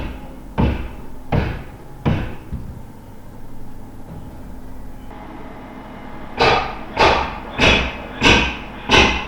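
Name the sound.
door being battered in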